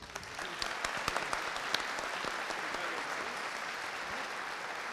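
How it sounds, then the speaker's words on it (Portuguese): Church congregation clapping steadily through a worship service, a dense wash of many hands with a few sharper individual claps standing out near the start, moderately distant and even in level throughout. "Vamos dar uma salva de palmas"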